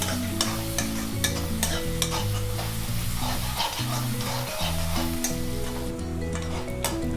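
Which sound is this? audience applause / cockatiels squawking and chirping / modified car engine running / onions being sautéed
onions being sautéed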